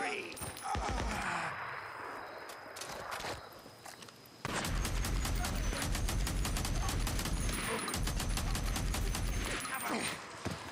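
Gunfire from the Days Gone video game, with bursts of shots and rapid rattling volleys that grow denser and louder in the second half, set over a steady game ambience with occasional footstep-like clicks.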